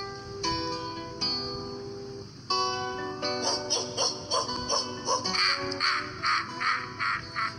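Wild birds call in a steady run of harsh, caw-like bursts over a backdrop of music, the calls growing thicker and louder toward the end.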